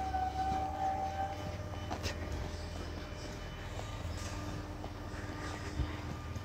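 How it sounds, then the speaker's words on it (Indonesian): A train rolls past with a steady, continuous low rumble and a faint sustained tonal whine, heard at moderate distance for the whole stretch, with no clear speech over it. "Ya, kereta Mak Ulan lewat."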